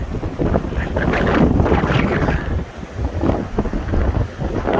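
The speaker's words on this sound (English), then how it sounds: "The wind is pushing me down." Strong winter storm wind gusts at a Vancouver beach, roaring steadily into the microphone, with surf and water noise mixed underneath and brief lulls between the heavy blasts.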